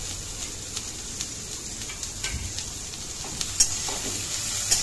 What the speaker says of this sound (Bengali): সবজিগুলো আরেকটু ভাজতে হবে ভালো করে। এবার দিলাম আদা বাটা